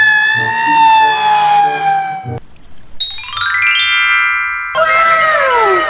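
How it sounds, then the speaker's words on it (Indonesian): Electronic toy fire truck siren sounds with bright harmonic tones that sweep and shift across several segments, loud and close, with no talking. "kita menemukan truk pemadam kebakaran, teman-teman, atau fire truck"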